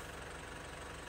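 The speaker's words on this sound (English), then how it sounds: "Left car running 5 minutes." A Mitsubishi L200 diesel engine idles after sitting five minutes in a workshop, a steady, low, continuous rumble with no pauses or talking throughout the short stretch.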